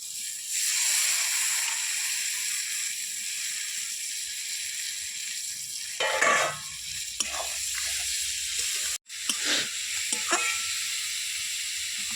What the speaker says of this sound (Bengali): জল ঝরানো মূলোগুলোকে দিয়ে নেব।